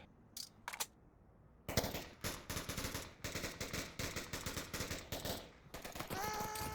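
Gunfire in the VR shooter Onward, with a couple of isolated distant shots followed by a rapid, sustained burst of sharp, loud reports in quick rhythmic succession, then a trailing mechanical tone.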